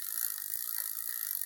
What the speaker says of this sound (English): you sit here and just turn your crank and run the brush on that chain